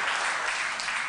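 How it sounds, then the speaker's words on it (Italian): A television studio audience applauds during a political talk show, a dense, even wash of clapping that runs steadily throughout the short moment, with no voices over it. "vede? Prende applausi"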